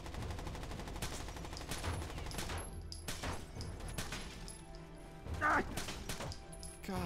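Pistol shots in the shooter game Rainbow Six Vegas, several sharp cracks scattered among game effects and explosions, with faint speech underneath.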